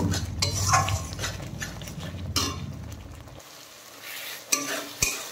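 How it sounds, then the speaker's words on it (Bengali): Ground cumin, turmeric and chili powder are stirred into a masala in a pan for a prawn curry, a sizzling scrape of a spoon against the pan followed by quieter moments and a couple of sharp metallic clinks at the end. "এখন নেড়ে চেড়ে মশলার সাথে মিশিয়ে দেব।"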